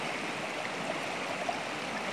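A cold, clear stream in the Kashmir valley rushes with a steady, even wash of flowing water, continuous and fairly loud, with no distinct splashes.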